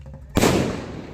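A firecracker bursting during a Holi celebration, one sharp close bang that rings out and decays over about a second.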